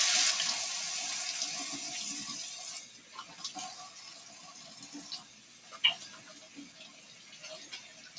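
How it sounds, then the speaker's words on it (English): Tap running while hands are washed at a sink, a close, steady stream of water that thins into scattered splashes and drips, with a few small clicks. "We'll even do a hand wash."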